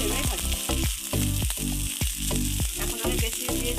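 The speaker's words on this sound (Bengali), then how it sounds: "খুব অল্প তেলের মধ্যে এগুলো ভাজবো আমি" Poha tikki patties fry in a little oil on a tawa, giving a loud, steady sizzle broken by repeated sharp scraping and tapping strokes of a spatula.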